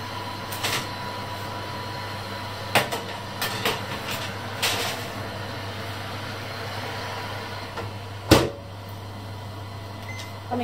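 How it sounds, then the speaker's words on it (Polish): An oven runs while heating up to 200 degrees, making a steady low electrical hum broken by a few soft clunks and clicks, with no one talking. "ustawiamy na 200 stopni i czekamy, aż się piekarnik rozgrzeje"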